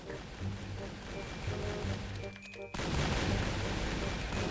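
Rapid gunfire from a Minecraft gun mod, Minez Copterz, in a crowded multiplayer match, bursts of quick shots popping over busy game noise while a player talks excitedly in Thai.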